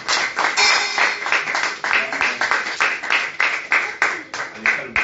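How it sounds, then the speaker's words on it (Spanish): A church congregation claps in praise, producing close, fairly regular bursts of hand claps that continue steadily throughout. "Le damos un aplauso al Señor."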